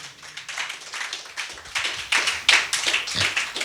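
A church congregation claps in a loose, rhythmic burst of applause that builds slightly in loudness, with no voices over it.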